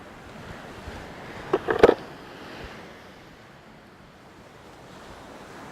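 Sea waves wash onto a Caribbean shore, a soft steady surf with one brief louder splash near the start, then a gentle wash.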